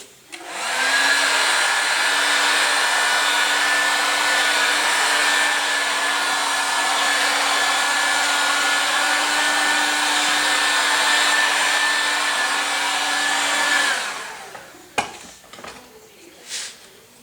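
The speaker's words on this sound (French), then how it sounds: "Et une fois qu'on a mis la colle de chaque côté, on va la sécher un peu." A hair dryer blows steadily for about fourteen seconds, drying glue on a Porsche 911 targa top seal during restoration, then switches off, followed by a few light clicks and handling sounds.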